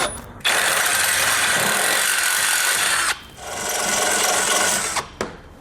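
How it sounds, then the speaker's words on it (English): A drill with a 3/8 bit boring holes for a Blue Ox base plate on a 2017 Ford Focus, two long loud sustained whirring runs separated by a brief stop, then a couple of short bursts at the end. "we'll just use a 3/8 drill bit to drill out these holes"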